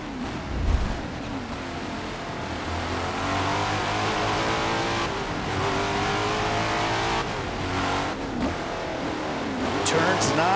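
An 800 horsepower Mercedes C9 race car in Forza roars continuously, its engine rising and falling through revs as the driver feeds in throttle, loud and close, with a commentator talking over it.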